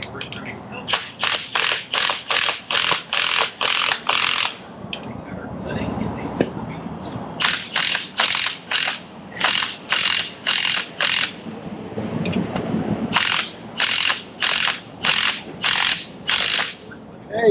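A Milwaukee impact wrench tightens a rear strut nut on a Subaru in a spring compressor, hammering in loud, rapid rhythmic bursts grouped in runs, with quiet pauses and some nearby talk between them.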